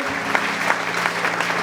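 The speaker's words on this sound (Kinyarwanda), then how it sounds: "amashyi menshi cyane ku mwami Yesu" Worshippers in a congregation clap loudly for Jesus, a thick continuous burst of applause with a few sharper claps standing out, steady from start to finish with no voices on top.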